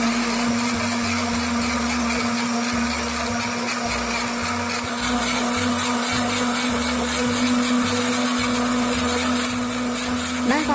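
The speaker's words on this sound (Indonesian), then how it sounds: "Next langsung di blender." A blender runs steadily at close range on fresh fruit with water, a constant motor whir with a churning rattle underneath, loud and uninterrupted throughout.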